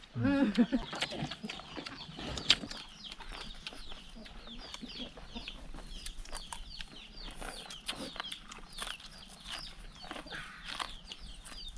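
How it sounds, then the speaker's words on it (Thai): A rooster crows with hens clucking around it, set against a busy outdoor background, and voices chatter intermittently throughout. "คนนีเป็นบ่าวไก่เดือนนี้"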